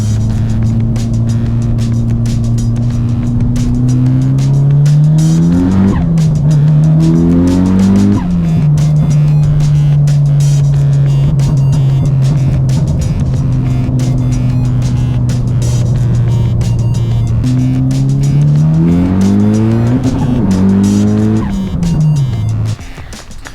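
A car engine revs and drives, rising and falling through several gear changes with whining acceleration and occasional tire noise, loud and close with no talk over it.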